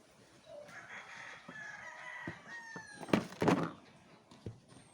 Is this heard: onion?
no